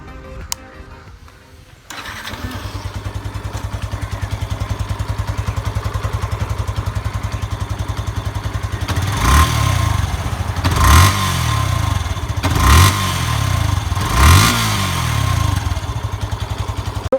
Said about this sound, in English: Let's listen to the exhaust note now.